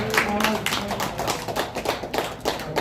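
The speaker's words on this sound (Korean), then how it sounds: "박수 한번 부탁드리겠습니다" Audience clapping in a hall for an editorial committee introduced at a rare-book auction event, a dense patter of hands with a voice speaking over it.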